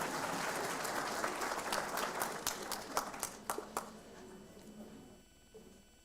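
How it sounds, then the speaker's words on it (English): Audience applause at an examination results announcement event, a steady dense round of clapping from a crowd that thins into scattered individual claps and fades out near the end. "Can I have a round of applause so that I can have a bit of water?"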